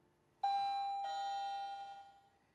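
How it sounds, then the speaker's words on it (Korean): A baby box doorbell sounds a single clear electronic ding-dong, two bright tones in close succession with the second ringing out and slowly fading, alone in a quiet room. "벨 소리가 딩동 딩동 나죠."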